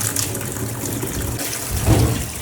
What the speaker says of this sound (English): So yeah, let's just get the tap on.